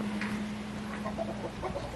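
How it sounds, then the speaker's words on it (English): A large rooster at an outdoor area with chickens on Puerto Rico's coast gives a few soft, short clucks at close range over a steady background hum. "There's a huge rooster."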